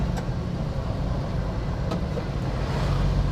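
A Suzuki Carry 1.0 with manual transmission drives along a main road, giving a continuous low engine drone with broadband road and wind rumble from inside the cab, steady and loud throughout.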